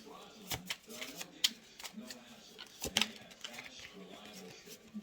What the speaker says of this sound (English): I'm trying to shuffle them in front of you, but there's so many cards on the table.